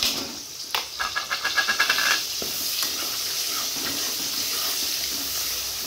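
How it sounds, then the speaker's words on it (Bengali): Onions dropped into hot oil in a kadai for a home prawn and ash gourd curry, bursting into a loud rapid crackle, then settling into a steady hiss of frying with occasional stirring scrapes. "তেলটা গরম হয়ে গেছে, এবার আমি পেঁয়াজগুলো দিয়ে দিব।"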